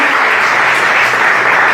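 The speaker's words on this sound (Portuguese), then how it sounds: "Pode aplaudir para ele, a honra dele, a glória dele." A church congregation applauds during an evening worship service. The clapping is loud, dense and continuous, a full room of hands with no voices standing out.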